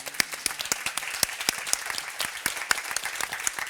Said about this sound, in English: I would love to give us a big applause